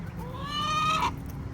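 A single chicken gives a rising, drawn-out squawking cluck, fairly close but quiet, over a soft background murmur.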